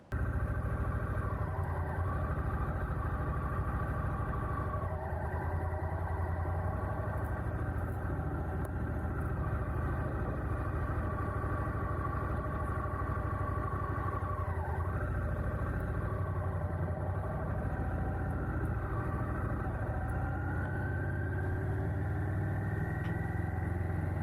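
Honda Rebel 1100 motorcycle, with an engine sharing the Africa Twin's lineage, heard while riding: a loud continuous engine drone with shifting pitch as it revs up and down, plus wind rumble, no talking.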